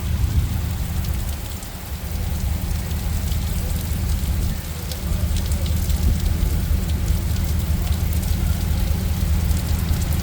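Heavy rain pours steadily, a dense hiss of drops with a deep rumbling undertone, constant and close throughout.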